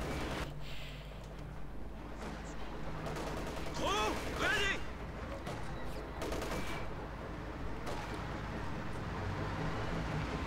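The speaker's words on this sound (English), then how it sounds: "That's a heavy machine gun." Heavy machine gun fire in the real-time strategy game Company of Heroes 2, with US forces fighting over a capture point; faint bursts of gunfire and explosions sit low in the mix, with a short louder burst in the middle.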